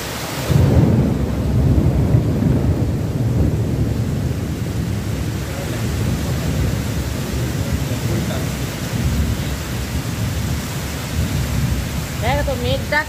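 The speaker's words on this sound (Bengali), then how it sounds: "দেখো তো মেঘ ডাকছে" Thunder rolls and rumbles through a heavy rainstorm, with the loud, close rain hiss running continuously and a faint voice near the end.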